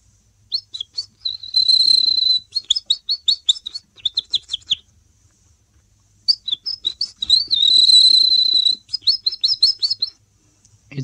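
A person imitates a wren with whistled chirps and trills, and a wren answers with rapid, bright song bursts. Bouts of quick chirping alternate with sustained high trills, clear and close against silence.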